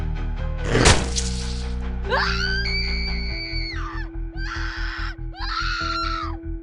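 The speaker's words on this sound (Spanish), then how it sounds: "Los gritos de la maestra resonaron como un eco desgarrador" A sharp crash is followed by a woman's long, shrill scream, then two shorter anguished screams over a low droning background.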